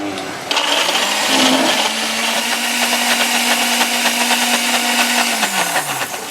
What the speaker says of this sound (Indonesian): Ini ngeblender apa kak?